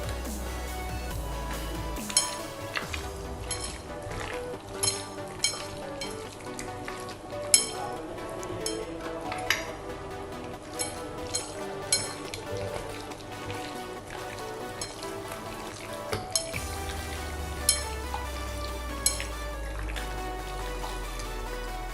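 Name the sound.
mixing yogurt and lemon juice into beef tikka marinade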